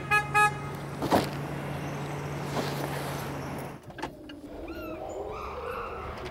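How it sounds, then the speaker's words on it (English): A truck drives up a road toward a zoo chimpanzee enclosure, its steady engine rumble loud and close for several seconds before fading out. Bird chirps and animal calls follow in the quieter stretch. "They see the truck."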